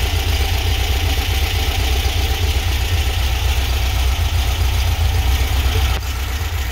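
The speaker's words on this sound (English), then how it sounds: "It's a good running engine." Brand-new 1776cc engine with an aluminum block and Engle W100 cam, running on a stand: a close, loud, continuous idle with a steady low throb and no talk.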